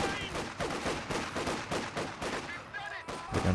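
Grenadiers open fire in Company of Heroes 2, with dense, continuous gunfire and scattered shots crackling across the whole clip over a busy battlefield, while speech runs faintly underneath.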